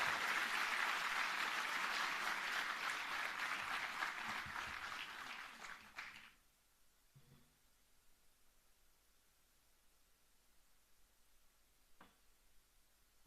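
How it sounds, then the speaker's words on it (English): An audience applauds to welcome Finance Minister Nirmala Sitharaman at a markets conference on a campus. The clapping is loud and sustained for about six seconds, then fades into near silence with a couple of faint ticks. "to address the gathering with a huge round of applause"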